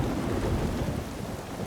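Heavy rain pours down in a thunderstorm deluge, a dense, loud, continuous roar with deep rumbling underneath and no voices.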